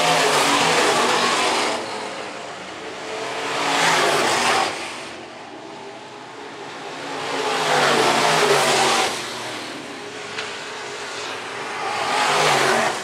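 Modified race cars roar around Phillips County Raceway, engines swelling loudly as the pack passes close by and fading between passes, in repeated waves of revving with no commentary audible over them.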